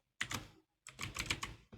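Quick bursts of typing on a computer keyboard, with closely spaced clicks in two clusters split by a short pause, heard near and alone.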